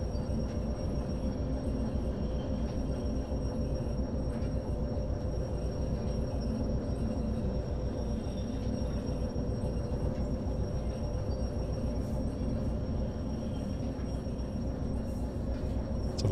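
A locomotive hauls its train cars along the track in the video game Derail Valley, giving a continuous low rolling rumble with rhythmic wheel clatter that holds steady throughout, without speech.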